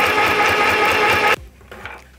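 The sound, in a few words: mini sewing machine sewing through denim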